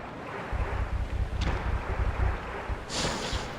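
Rushing water from a waterfall in the Resident Evil 2 video game, a continuous roar with low rumbling surges and a brief hiss near the end.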